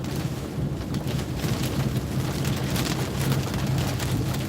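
Strong wind and rain lash a vehicle being driven during an isolated storm in the Hudson Valley, a steady, dense wash of gusts and rain noise buffeting the microphone throughout with no talk.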